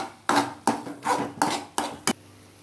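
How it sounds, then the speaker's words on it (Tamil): Egg masala with garam masala and spices being stirred in a pan for kothu parotta, a spatula striking the metal in five sharp clattering bursts about every 0.4 seconds, close and fairly loud, with no talk. "தேவையான மசாலாவெல்லாம் போட்டு முட்டையோட சேர்ந்து நல்லா கிண்டி விடணும்"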